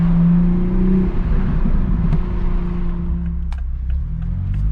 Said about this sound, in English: So this car sounds awesome.